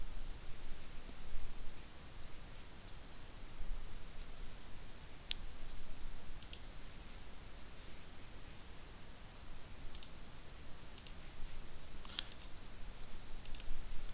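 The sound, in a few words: computer mouse clicking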